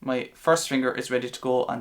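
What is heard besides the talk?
No everyday noises stand out.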